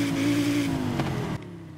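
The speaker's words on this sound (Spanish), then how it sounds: "¡Arrancamos el coche!" Audi RS3 five-cylinder turbo engine in the racing game Forza Horizon 5 fires up, a brief rising rev that settles and drops off abruptly, close and without talk.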